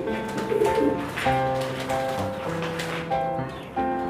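Pigeons coo repeatedly inside a loft, their throaty calls overlapping in close, steady rhythm with no voices present.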